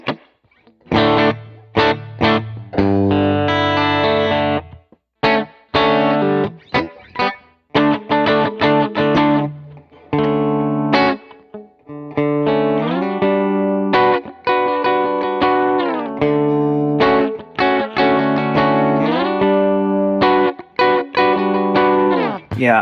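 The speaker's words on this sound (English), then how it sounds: "And then lastly, I got a spring reverb." Electric guitar played through a pedalboard with a spring reverb pedal set low, loud strummed chords and single notes with slight grit and a faint springy tail under the playing.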